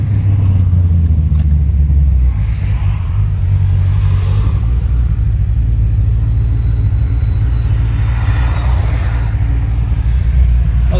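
A cammed Coyote V8 Mustang making over 800 rear-wheel horsepower idles with a loud, steady, deep rumble that holds evenly throughout, close up, with no talking.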